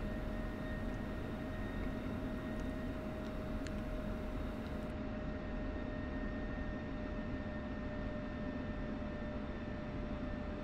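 Steady, loud jet engine roar from an aircraft in the flight simulator DCS World during takeoff. The broadband rumble holds constant throughout with a few steady whining tones over it and faint clicks early on.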